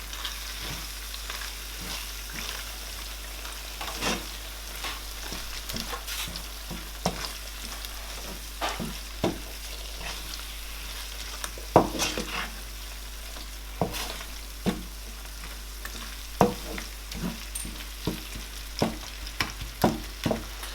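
Seasonings such as thyme, curry, salt and dry chili being stirred in a pot with a spoon: soft sizzling under a steady hiss, with sharp scraping and tapping strokes at irregular intervals and no talk.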